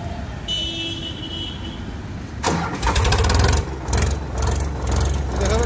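Tractor engine with its silencer removed, cranking and catching after a few quiet seconds, then running loud and close with a harsh, uneven bark and a couple of revving surges.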